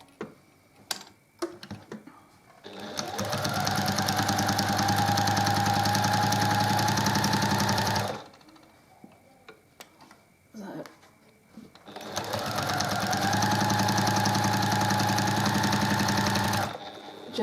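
A sewing machine fitted with a walking foot quilts a small cross-hatch block at a stitch length of about 3, humming loud and steady in two long runs split by a quiet pause, with a few clicks and brief talk before.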